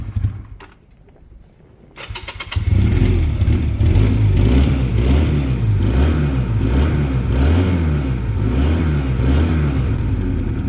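A Piaggio Fly 125 scooter with a newly swapped engine starts after a few seconds of quiet handling noise, then idles loud and close with a low, uneven, pulsing throb.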